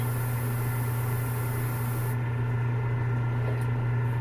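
Spray painting a Batman figure inside a spray booth gives a steady, loud airbrush-like hiss over a constant low hum from the booth, with the highest hiss dropping away about halfway through.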